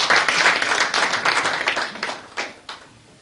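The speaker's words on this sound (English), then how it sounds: "you should clap for yourselves" Audience at a university launch event clapping, a dense burst of handclaps that thins out into a few scattered final claps.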